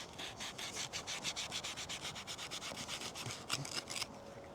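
A knife blade sawing through thick, gritty sisal rope gives a steady run of close, rasping strokes, each about a fifth of a second long, ending in a slightly louder final cut.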